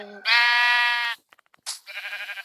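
A Minecraft sheep, a dyed-sheep setup, gives a loud synthetic bleat up close, then a second shorter wavering bleat follows after a few faint clicks.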